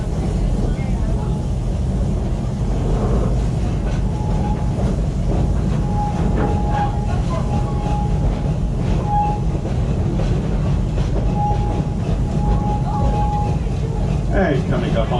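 Steady rumble and clatter of the yellow safari train at Busch Gardens Tampa, with a constant rolling roar and faint squeaks throughout. A tour guide narrates over the running train.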